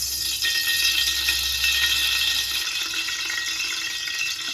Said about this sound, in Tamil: முதல்ல ஒரு 100 ml எண்ணெயை நல்லா ஊற்றிக்கலாம்